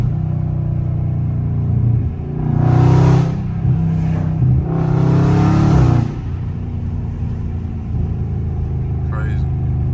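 Catless Dodge Charger Scat Pack V8 revving loudly in two strong bursts of acceleration, a deep steady exhaust rumble filling the cabin between pulls, with faint talk from the driver.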